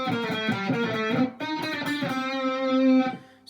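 Distorted electric guitar runs a fast pentatonic solo lick from a song, loud and close, with quick picked notes before a short break and then a long sustained bend held near the end.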